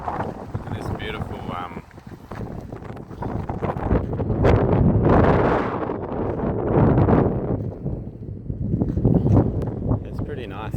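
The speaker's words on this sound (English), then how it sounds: "It's really windy though. Geraldton's always windy." Strong gusty wind in Geraldton buffets the microphone on an outdoor walk, rising into loud rumbling surges. A person talks intermittently over the wind.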